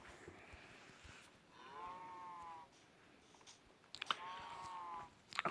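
Cows moo in a Minecraft farm, two drawn-out harmonic calls about two seconds apart over a low, steady background hum, moderately close and with no talking.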